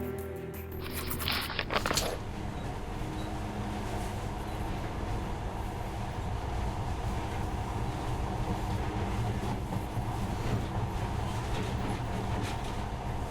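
A monorail train ride in the post-apocalyptic shooter game Metro Last Light: after a brief clatter at the start, a steady loud rumbling roar of the moving train carries on continuously, with no talk.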